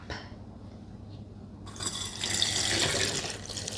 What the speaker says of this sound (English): All we're going to do is pour our water on top.